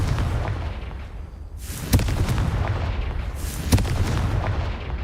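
Confringo blasting spell in Hogwarts Legacy, two sharp booming explosions about two seconds apart, each with a crackling burst and rumbling tail, loud and close without talk.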